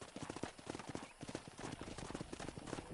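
Horse hooves clip-clop in a fast, steady rhythm in the video game Red Dead Redemption, close and continuous, with a brief whinny-like sound mixed in.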